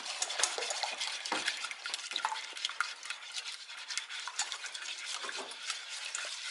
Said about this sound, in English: Alright, now we're going to mix in the 2 eggs